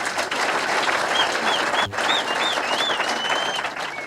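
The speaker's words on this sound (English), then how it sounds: "You can clap for him." Loud, sustained applause from an audience at a public gathering welcoming a guest, with dense steady clapping and a few whistles over the top.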